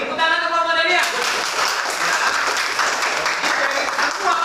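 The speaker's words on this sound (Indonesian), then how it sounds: "Oke, tepuk tangan untuk kelompok Dahlia" Applause in a classroom as students clap for group Dahlia after their presentation, a dense patter of many hands, fairly close, with a few voices over it at the start.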